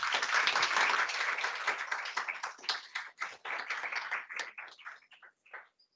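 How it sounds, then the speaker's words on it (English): Audience at an education talk on primary reading applauding a presenter, a full burst of clapping that thins into scattered individual claps and fades out over six seconds. "Please give her a round of applause."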